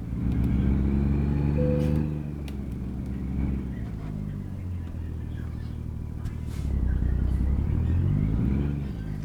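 A heavy truck hauling a meat load in American Truck Simulator rolls toward the unloading area. Its engine gives a continuous low, steady rumble that swells slightly near the start and again toward the end, with no speech.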